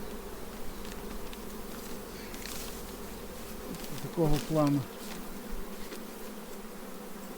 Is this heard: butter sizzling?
no